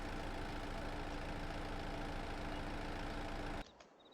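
A Kubota 6M tractor engine idles in a video game with a steady, dense low rumble and constant loudness, running alone for about three and a half seconds before cutting off abruptly into near silence.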